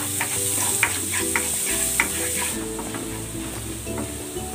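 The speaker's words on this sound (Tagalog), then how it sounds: "Igigisa ko naman tong natitirang bawang." Garlic sizzles loudly in a hot pan as it is sautéed, with a steady close hiss and sharp ticks and clinks of stirring throughout.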